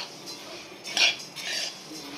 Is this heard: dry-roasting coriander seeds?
yes